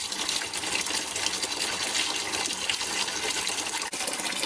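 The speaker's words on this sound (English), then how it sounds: "I'm just playing this water across the surface of the grain, trying to keep this grain wet but not sort of deluged." Hot water being sparged over a bed of mashed grain while home brewing a pale ale gives a steady, close, rushing pour that runs the whole time without letup.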